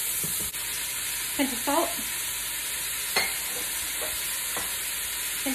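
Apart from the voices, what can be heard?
scraping browned bits from pan bottom with onions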